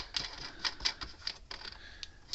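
Gallagher solar portable electric fence charger ticking with sharp, evenly spaced clicks, close and fairly quiet, with no talking over it.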